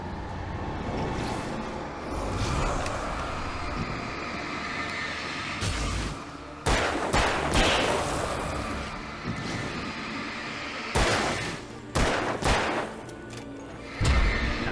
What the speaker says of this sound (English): One more shot for the guy on the left